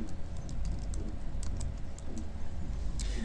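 Typing on a computer keyboard, a quick run of light clicking keystrokes over a steady low background hum.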